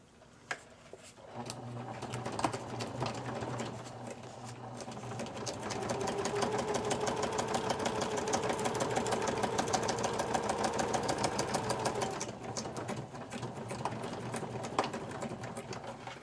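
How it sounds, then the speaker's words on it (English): A sewing machine runs steadily, stitching close along the fold of a fabric teabag gift envelope, its motor hum and needle clatter continuous and close for most of the stretch with brief pauses at the start and near the end. "Then I will need to sew real close to this"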